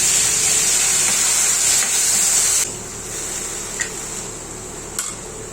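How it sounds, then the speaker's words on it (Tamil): Asafoetida and curry leaves sizzling loudly in hot oil in a pan while tempering spices for a banana stem curd raita, a steady bright hiss that drops to a softer sizzle partway through, with a couple of small clinks. "பெருங்காயம் சேர்த்து தாளித்து"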